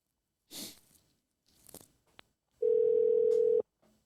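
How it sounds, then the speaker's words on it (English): A telephone dial tone sounds before a call, a steady pure hum lasting about a second, preceded by a few faint handling rustles and clicks from the phone. "I'm going to get CJ on the phone"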